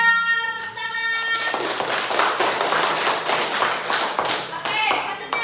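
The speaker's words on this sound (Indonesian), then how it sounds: "Tepuk tangan." A group bursts into dense, steady hand clapping in a quiz session on world geography; the applause starts after a brief tonal opening and continues loud and close to the end.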